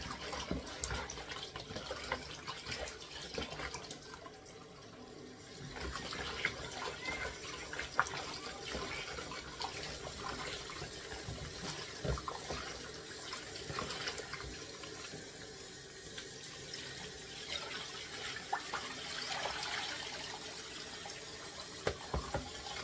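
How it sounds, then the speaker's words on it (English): Raw chicken back being rinsed of vinegar under a running kitchen tap, a steady splashing stream of water into the sink with shifting gurgles and handling noises throughout, alone without talk. "Now wash it down out of the vinegar."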